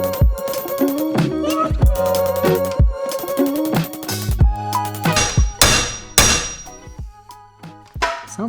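Hammer blows drive a KYB SSS fork part home on a 1993 Yamaha YZ250 using a tusk tool, a rapid series of loud, sharp metallic strikes with ringing clangs, growing heavier and more spaced toward the end.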